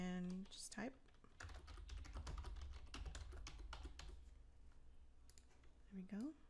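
Fingers type on a computer keyboard in a quick, quiet run of clicky keystrokes, with a brief bit of speech at the start and end.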